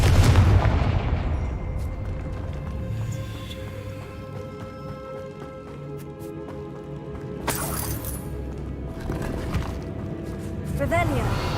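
Confringo fire spell from the Hogwarts video game, sharp cracking blasts and booms over game music, with a loud burst partway through and a voice speaking near the start.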